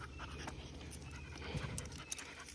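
Rapid, steady panting from a dog close by, a quick rhythmic huffing that runs through the whole stretch with no talk over it.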